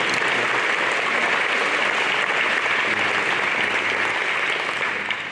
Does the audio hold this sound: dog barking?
no